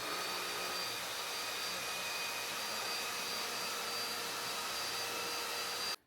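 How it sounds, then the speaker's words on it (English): Tineco iFLOOR 5 Steam combined vacuum and steam mop running with a steady, loud motor whine and airflow hiss, unbroken for about six seconds before cutting off abruptly at the end. "It's a vacuum and steam mop that turns messy, sticky disasters into small victories."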